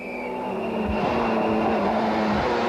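A rally car at the 1994 ADAC Rallye Deutschland runs flat out with a loud, sustained engine roar that builds and holds steady, tire and road noise mixed underneath.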